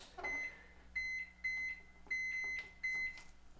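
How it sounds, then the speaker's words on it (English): A kitchen timer is set to 25 minutes with a run of five short, clear electronic beeps at a steady pace, fairly quiet in an otherwise still kitchen. "I'm gonna set my timer to 25 minutes."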